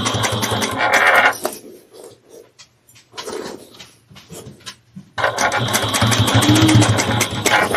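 A sewing machine whirs in steady bursts while stitching a quilted barrel bag, running loud at the start, pausing with quieter handling noises, then stitching again continuously.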